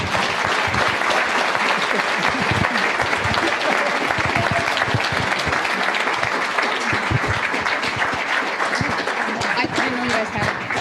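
Audience applause fills a recovery-community event hall, a dense steady roar of many hands clapping close and loud throughout, with scattered voices in the crowd.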